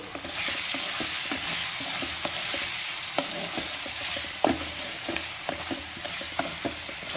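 Food sizzles and fries continuously in a clay pot, with chilli powder added, while a utensil scrapes and taps against the pot in an irregular stirring rhythm.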